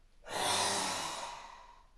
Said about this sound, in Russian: Выдох.